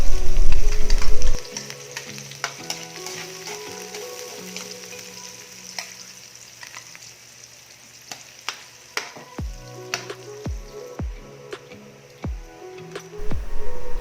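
Garlic and onion sauté in a pan for pancit canton with bihon, giving a loud burst of sizzling at first, then a steady frying hiss with scattered sharp spatula clinks and scrapes toward the end.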